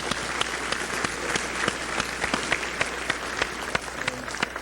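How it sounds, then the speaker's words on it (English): A conference audience at Apple's WWDC 1997 claps steadily, dense sustained applause with scattered sharper individual claps throughout. "Big round of applause for Stan."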